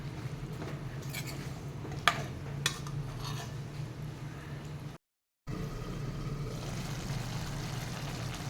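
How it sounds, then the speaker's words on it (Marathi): Cauliflower and potato curry stirred in a pan, with scraping utensil clicks and a couple of sharp metallic knocks over a steady low background hum, then a brief silent gap before a softer, covered simmering texture. "आणि ही भाजी छान मिक्स करून घेऊया आणि त्याच्यावर झाकण ठेवून"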